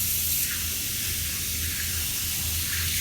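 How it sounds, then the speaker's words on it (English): Water runs steadily from a kitchen tap over hands being rinsed, a continuous close hiss and splash with no talk, held evenly for a few seconds. "Wash my hands just a tad bit."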